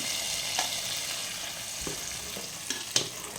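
A spoon stirs palada payasam in a pan, producing a steady soft sizzle with a few faint scraping clicks, quiet and close, with no talking.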